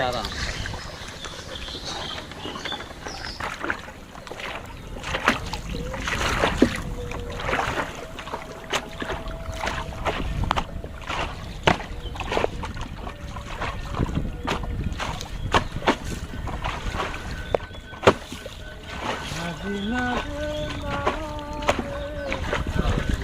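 A small wooden boat moving across deep floodwater over submerged farmland, with a steady low rush of water and wind along the hull and occasional knocks, while people talk throughout.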